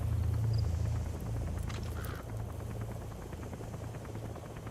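Helicopter arriving at an outpost in the video game Metal Gear Solid V: The Phantom Pain, a steady low rotor thrum and engine drone that holds throughout at moderate level, with a few faint game effects on top.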